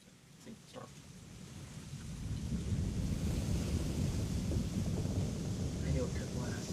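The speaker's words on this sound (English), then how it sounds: "We're in for a proper storm, it seems." In the Final Fantasy XIV Dawntrail game world, a thunderstorm builds from faint, scattered sounds into a steady, heavy rumbling roar of rain and wind that stays dense and low, with a few faint voices early on.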